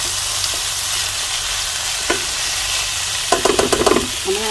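Bitter gourd (ampalaya) frying in a pan, a constant hissing sizzle with a few gentle scrapes and a burst of clattering stirring near the end, no voices.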